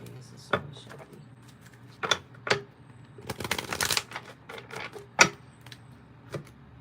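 Tarot cards are shuffled in several quick riffling bursts, close by, with short pauses between and light handling noise.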